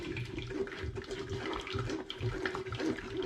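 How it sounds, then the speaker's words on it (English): Gooseberries being spooned and pushed through a sieve into a pan, a continuous wet squelching and scraping, moderately close, with liquid dripping and sloshing throughout. "Spoon and push the gooseberries through."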